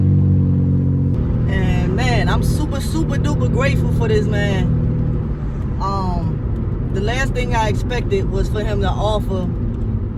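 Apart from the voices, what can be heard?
car driving on the road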